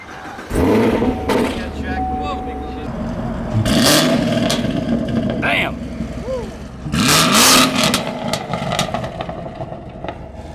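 A 700 hp 2016 Camaro IROC-Z with long-tube headers, high-flow cats and stock exhaust cranks and fires up, then revs in a few loud, close bursts that settle between them, with people talking over it.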